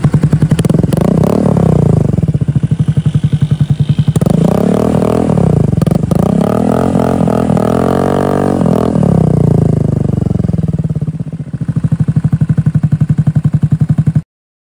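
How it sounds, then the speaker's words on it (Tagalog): Yamaha Fazzio 125 scooter fitted with an M4 aftermarket full-system exhaust, loud and close, idling with a throaty burble and revving up and down repeatedly over about fourteen seconds. "sound check natin yung ating M4 exhaust na napakadami nagtatanong kung kumusta na"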